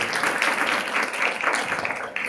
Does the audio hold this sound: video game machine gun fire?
no